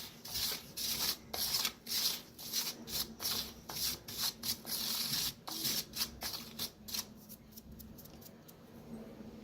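Coarse semolina and sifted rice flour mixed by hand in a bowl, producing close, dry rubbing and gritty swishing strokes in quick rhythmic bursts that gradually soften.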